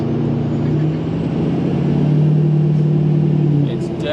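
A 6.0 diesel truck engine with a performance tune idling and humming steadily, a loud close drone with a low tonal rumble that holds evenly before easing off near the end.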